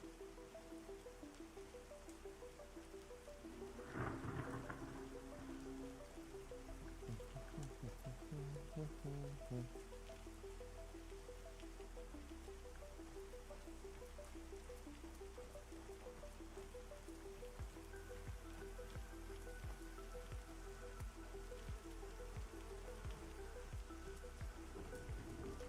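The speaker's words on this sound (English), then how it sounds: "It's raining outside right now." Steady rain patters outdoors as a soft, even wash of drops and trickles running the whole time, with faint background hum and a few brief knocks but no talking.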